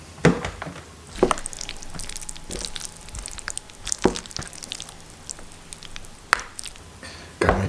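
Wet squishing and scraping as an Asian noodles and chicken frozen meal with sauce is stirred in its tray, with soft irregular stirring noises and a few sharper clicks of utensil against container, close and fairly quiet.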